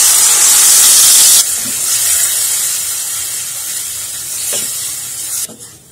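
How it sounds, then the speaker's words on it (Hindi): A vegetable mixture hitting hot mustard oil in a kadhai gives a loud, bright hiss that drops after a second into a steady, softer sizzle, close and alone. "तेल गर्म हो गया है और अब ये इस मिक्सचर को इसमें डाल देंगे।"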